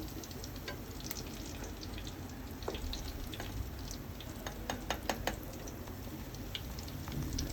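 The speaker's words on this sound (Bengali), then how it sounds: "দেখছেন আম্মু যেভাবে ভাজছে, আপনারাও কিন্তু চাইলে ঠিক এভাবে ভাজতে পারেন।" Shrimp cheese balls fry in hot oil with a loud, continuous close sizzle, broken by frequent crackling pops and a few light clinks, and nobody speaks.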